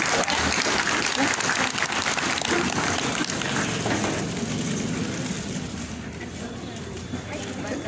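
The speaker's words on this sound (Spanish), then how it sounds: "para quien pido fuertes aplausos" A crowd at a swearing-in ceremony in San Andrés Huaxpaltepec, Oaxaca, applauds a secondary school director with loud, dense clapping that fills the space and tapers slightly toward the end.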